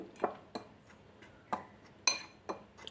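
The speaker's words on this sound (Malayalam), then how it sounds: "ഇതുപോലെ ഒരു ഫോർക്ക് വെച്ച് മിക്സ് ആക്കുകയാണെങ്കിൽ വളരെ ഈസി ആയിട്ട് നമുക്ക് മിക്സ് ആക്കാൻ പറ്റും" A fork mixing wheat dosa batter in a bowl, sharp metallic clinks against the dish at irregular intervals, about seven light taps over a quiet background.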